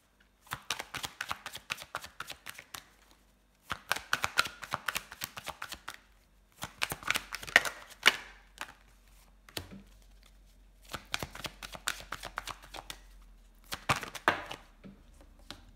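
Tarot cards are shuffled by hand during a reading, in five rhythmic bursts of crisp riffling and flicking, close and fairly quiet, with short pauses between them.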